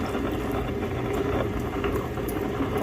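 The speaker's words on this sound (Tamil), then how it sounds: "கொஞ்சம் தண்ணி ஊற்றிடுறேன்." Water is poured into idli dosa batter in a grinder at home, making a steady, continuous wet rushing and churning sound that stays loud and even throughout.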